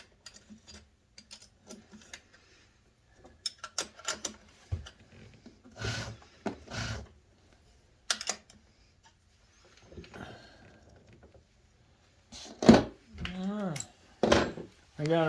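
Wrench clicking as it turns a bolt to adjust the chain on a newly replaced motor of a Burromax TT350R, giving short bursts of ratcheting metal clicks spaced apart, with a voice speaking briefly near the end.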